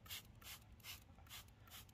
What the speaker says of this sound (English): Let's go ahead and spray some water